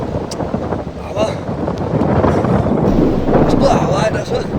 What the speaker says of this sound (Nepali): यस्तो हावा आइरहेछ